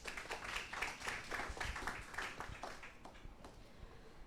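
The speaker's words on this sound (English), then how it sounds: "May we give her a round of applause," Scattered clapping from a small crowd at a poetry open mic, fairly quiet and distant, tapering off toward the end.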